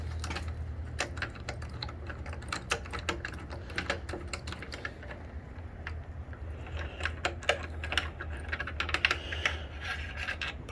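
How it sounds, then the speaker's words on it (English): Small clicks and ratchet-like ticks from a wrench turning an 8 mm bolt on the tank hinge of a Triumph Street Triple, close by, irregular and light over a steady low hum. "right there on the hinge, there's an 8 millimeter bolt. I'll just kind of unscrew this."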